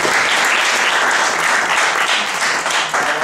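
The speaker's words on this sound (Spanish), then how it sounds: "un aplauso para él" Loud, sustained audience applause fills the room at a recording-studio music event, a dense wash of many hands clapping steadily for several seconds with no voices over it.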